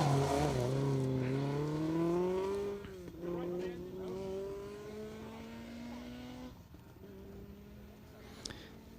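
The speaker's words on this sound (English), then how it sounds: "nursing that RS 2000, that historic car, around these stages now" A historic Ford Escort RS 2000 rally car runs an asphalt stage at the Tour of Epynt, its engine note rising and falling through the gears as it passes at a distance, heard steadily for several seconds.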